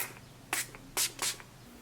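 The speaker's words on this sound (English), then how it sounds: "Spray some ColourPop spray" A few short hissing bursts from a ColourPop makeup setting spray bottle, three main puffs spaced about half a second apart, close and fairly quiet.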